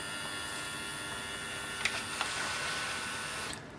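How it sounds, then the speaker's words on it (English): A Canon Pixma TR8622 printer scans pages pulled from its document feeder tray, giving a soft steady mechanical hum with a couple of small clicks near the middle and end. "Automatically it will start scanning from the feeder tray."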